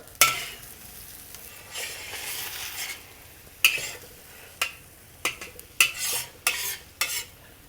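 Scrambled eggs with shrimp scraped around a wok: irregular metallic scrapes and clinks of a utensil against the pan over a soft sizzle, growing busier and sharper toward the end.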